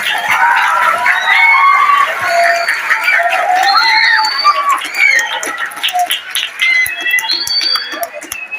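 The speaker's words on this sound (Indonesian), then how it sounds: "Tepuk tangan dulu untuk siswa MTS ini" Hundreds of MTS students at a school outreach session cheer loudly, with many high young voices shouting and whooping together and some clapping mixed in, sustained throughout.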